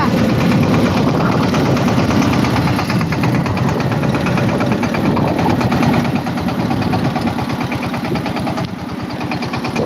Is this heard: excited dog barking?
no